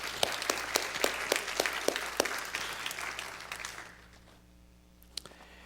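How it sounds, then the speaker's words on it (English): An audience claps in a steady burst of applause that thins out and fades after a few seconds, leaving near silence and one last clap. "Let's give him one more round of applause"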